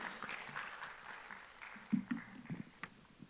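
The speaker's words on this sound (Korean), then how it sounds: "여러분 큰 박수로 네, 맞이해 주시기 바랍니다." Audience applause at an island ecosystem forum session in Yeosu, greeting a university marine biology professor before his talk; a brief, moderately faint burst of clapping with scattered louder claps and no speech.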